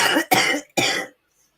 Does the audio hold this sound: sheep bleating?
no